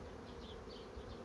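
Honeybees buzz around an open hive colony in a dense, continuous swarm hum, soft and steady with slight rises, close by and with no talking.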